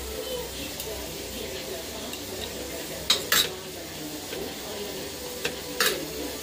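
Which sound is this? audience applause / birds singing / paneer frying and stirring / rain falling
paneer frying and stirring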